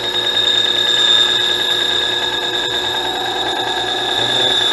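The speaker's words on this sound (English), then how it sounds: "now what we're going to do is cut this on the bandsaw" A bandsaw cuts a wood off-cut down the middle, giving a constant close motor hum and blade whine with a faint rhythmic pulsing underneath.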